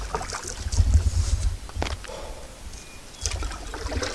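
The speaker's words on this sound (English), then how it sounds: "Good paddling conditions." A paddle works through the water of Donald Lake, with a couple of close splashing strokes separated by quieter gliding and steady wind noise against the microphone.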